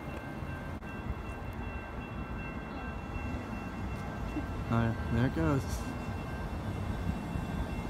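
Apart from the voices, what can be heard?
small city light rail train passing by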